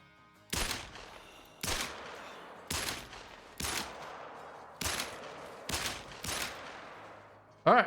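Glock pistol shots in the hunting video game Call of the Wild: seven sharp, loud reports spaced about a second apart, each with a short decaying tail, followed by a final burst at the end.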